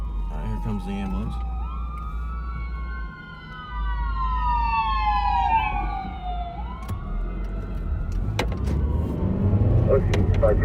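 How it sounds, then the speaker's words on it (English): An ambulance siren wails on the streets of Bakersfield, loud and close, its pitch sweeping up and down over a steady low vehicle engine rumble as it approaches. "here comes the ambulance"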